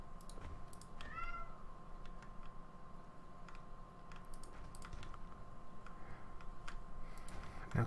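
A pet cat meows insistently near dinner time, its calls rising over a steady background hum and a patter of keyboard typing, fairly close and moderately loud.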